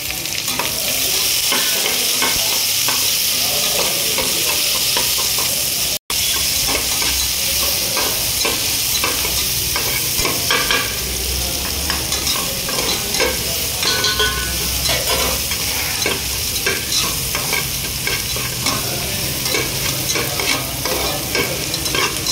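Onions and curry leaves fry in hot oil for a chicken sambar, with a steady loud sizzle and scraping stirs that keep going without a break, and no voices.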